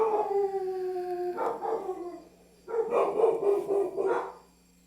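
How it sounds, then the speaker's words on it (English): Several dogs howl in long, wavering tones, then break into a mix of barks and howls before falling quiet, heard at moderate distance with no talk. "Yeah, dogs were barking up a storm there."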